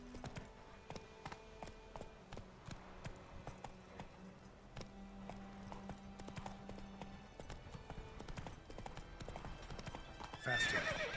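Roach, a horse in The Witcher 3, gallops with steady rhythmic clip-clop hoofbeats and occasional whinnies, hooves loud and close over game ambience, with a brief rise in noise near the end.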